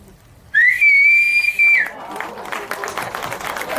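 A loud, steady whistled tone held for over a second, then fading into a busy room at a women's awards ceremony, with crowd noise and scattered voices.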